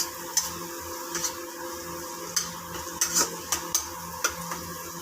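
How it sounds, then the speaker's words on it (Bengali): Chopped tomatoes and spices are stirred and sautéed in a pan for a vegetarian cabbage curry, with a soft continuous sizzle broken by repeated light clicks and scrapes of the spoon against the pan. "এগুলো দিয়ে ভালো করে কষিয়ে নিচ্ছি"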